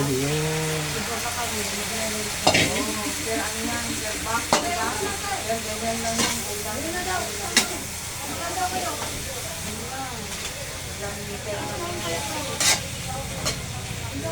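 Pechay leaves sautéing in a pan, a steady sizzle and hiss with occasional stirring clatters, heard under nearby conversation.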